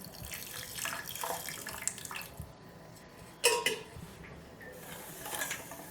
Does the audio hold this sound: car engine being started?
no